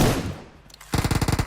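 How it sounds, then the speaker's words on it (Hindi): Gunfire in the mobile battle-royale game PUBG Mobile: after a short stretch of fading noise, a rapid burst of about eight automatic shots rattles out in quick, even succession. "अब यहां पर कोई दूर से भी गोली चला रहा है"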